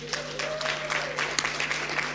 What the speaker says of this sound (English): May we please welcome her with a round of applause.